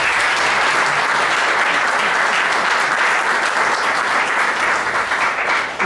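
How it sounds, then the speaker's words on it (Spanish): At a poetry event in Alicante, an audience breaks into loud, dense applause that holds at full strength for several seconds, a continuous roar of clapping with no talk over it. "pido para quienes han promovido esta iniciativa un gran aplauso"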